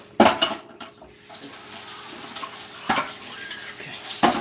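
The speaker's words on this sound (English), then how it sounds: "But we have to rinse it out first." Tap water rinses out a recycling container at a sink, a soft running splash with a few sharp clatters and knocks of the container scattered through the stream, close by and fairly quiet.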